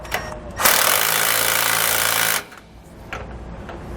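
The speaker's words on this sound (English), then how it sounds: "Then I want to come back with a 9/16 socket, and I'm just going to snug these up." A power tool with a 9/16 socket drives bolts on a motorhome suspension bracket in one loud, close buzzing burst of about two seconds, framed by quieter clanks and handling noises.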